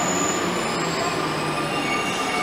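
A Paris Metro Line 4 train pulling into a short underground platform, a steady loud rumble of wheels with a thin high squeal running across it, close and without voices.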